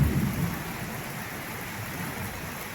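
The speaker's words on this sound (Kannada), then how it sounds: "ಸಣ್ಣದಾಗಿ ಆದರೂ ಮಳೆ ನಿರಂತರವಾಗಿ ಬರುತ್ತಾ ಇದೆ" Continuous light rain falling over Subrahmanya, a steady, even hiss with a low rumble underneath, with no talking.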